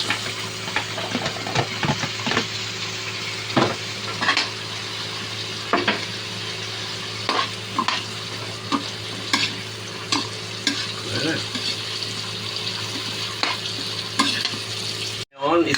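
Garlic and carrots being stir-fried in a pan, with repeated scraping and stirring strokes over a steady, close sizzle, no voices.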